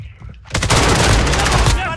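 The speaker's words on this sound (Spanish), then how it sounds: "Está disparando, hermano." Dense, sustained automatic gunfire crackles through a shooter video game firefight, a loud continuous burst of rapid shots that erupts after a half-second lull and runs to the end, with a voice talking over it.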